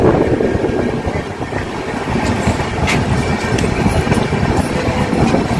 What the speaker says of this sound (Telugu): మా ట్రైన్ ప్లాట్ఫారం 2 నుంచి బయలుదేరింది.